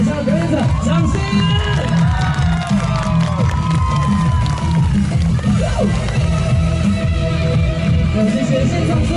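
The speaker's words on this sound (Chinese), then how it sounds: "给你们最热情的掌声，给我们台下表演者掌声！" A large outdoor concert audience at the Anping sunset viewing platform in Tainan, during an arts festival, cheers, whoops and shouts loudly and continuously, with whistles rising above the crowd roar.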